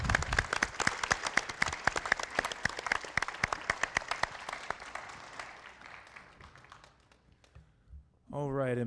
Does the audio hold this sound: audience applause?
yes